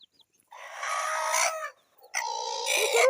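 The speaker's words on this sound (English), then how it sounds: "Chickens, do you people have any other work apart from eating?" Chickens in a farmyard, with a rooster crowing twice in long loud calls, each followed by clucking, close by and without talk.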